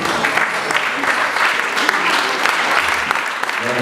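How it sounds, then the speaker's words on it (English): Wedding reception guests break into sustained applause, a dense, even wash of many hands clapping at once, with a few voices faintly audible underneath. "How about a nice round of applause?"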